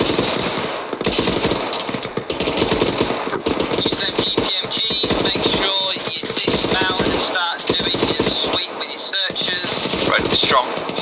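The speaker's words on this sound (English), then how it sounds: "Get GPMG firing onto that contact" A GPMG machine gun in the military shooter Arma 3 fires long, rapid sustained bursts with brief pauses, loud and close, while voices talk over the gunfire.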